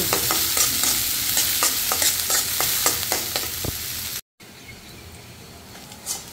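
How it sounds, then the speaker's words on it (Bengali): Chilies and onions fry in hot oil with a busy close sizzle and rapid scraping stirs, then a brief dropout and a quieter, softer sizzle to the end. "মরিচ পেঁয়াজগুলো সুন্দর করে ভেজে নেব।"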